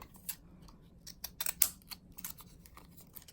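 Scissors cutting paper for a craft ephemera pocket give a quiet run of short crisp snips and rustles, close by with no talking.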